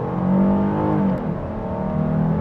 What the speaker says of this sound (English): trying to get a good launch on the gas